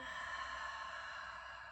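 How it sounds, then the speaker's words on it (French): A slow exhale through the mouth during a qi gong breathing exercise, a soft, steady breathy rush lasting under two seconds, faint and close, with no talking over it. "Expire par la bouche."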